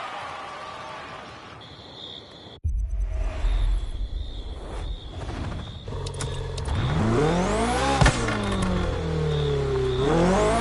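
A race car engine in a racing video game starts after a quiet lead-in, then revs hard and loud, climbing and falling through repeated gear-shift sweeps as it accelerates, with no one talking.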